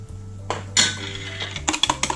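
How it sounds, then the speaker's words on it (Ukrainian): Milk is stirred quickly into a custard cream mixture in a pot, with a close metallic scrape and a clink, then a run of rapid clattering taps from the utensil against the pot. "Тепер до ось цієї суміші додаю ополоник молочка і швиденько перемішую."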